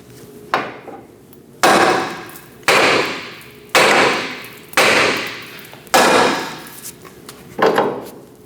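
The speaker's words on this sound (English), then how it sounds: "Using a large hammer, we're going to tap on the bottom of the knuckle to separate the ball joint from the knuckle." A large hammer strikes the bottom of a steering knuckle on a 2008-2015 Scion xB to free the front ball joint: seven sharp, loud metallic blows at a steady pace, each ringing briefly before the next.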